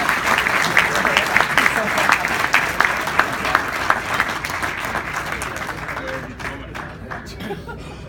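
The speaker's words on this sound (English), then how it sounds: "Give them a round of applause." Applause from an audience at a senior speech event, a steady wash of clapping with scattered chuckles and crowd murmur, loud at first and slowly thinning toward the end.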